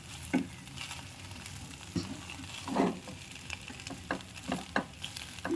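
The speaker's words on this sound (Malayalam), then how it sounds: "അപ്പോൾ ഓർത്ത് ബ്രേക്ക്ഫാസ്റ്റ് ഇന്ന് ബിരിയാണി ചൂടാക്കാമെന്ന് ഓർത്ത്. ചിക്കൻ ബിരിയാണിയാണ്." Chicken biryani reheating in a pan for breakfast, with soft sizzling and frying crackle under intermittent scrapes and stirs of a utensil, close and moderately quiet, without talk.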